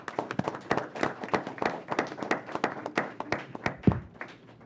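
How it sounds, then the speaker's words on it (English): Audience members clapping at a city council meeting give a brisk, uneven round of applause with dense, overlapping claps at a steady level that thin out toward the end. "you're not supposed to clap in here"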